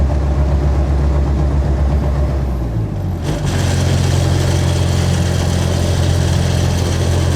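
A diesel Jeep Wrangler YJ cruises a country road, its engine droning steadily and loud throughout with a brief dip in pitch and a gear change partway through.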